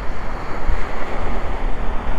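Sea waves break against a breakwater on the Batangas City shore, a loud continuous surging wash heavily mixed with wind buffeting the microphone.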